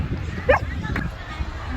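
A dog gives a short yip or bark midway, nearby but brief, over steady outdoor background noise at a seaside spot in Whitley Bay.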